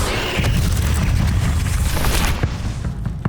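A loud, sustained Confringo fire-spell blast from Hogwarts Legacy, with a deep booming roar and crackle that holds for about two seconds before tapering into a few fainter pops.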